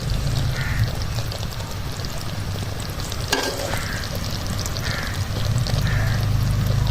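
Jaggery sugar syrup for til rewari is poured into a cup of water, a brief splash standing out over a continuous loud sizzle of cooking, with faint bird calls in the background.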